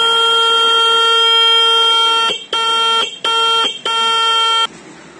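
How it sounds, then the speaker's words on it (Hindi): A Pulsar-size motorcycle horn is tested, sounding one long loud tonal blast, then three short sharp honks in quick succession, close and harsh with no talk. "और ये हॉर्न जो है पल्सर साइज में होता है, पल्सर वाले हॉर्न होते हैं, इनकी बहुत अच्छी आवाज होती है"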